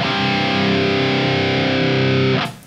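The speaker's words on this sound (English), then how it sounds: "in between the chords, you play a palm mute." A distorted electric guitar chord rings loud and sustained for about two seconds, then is abruptly choked off, leaving a short noisy tail.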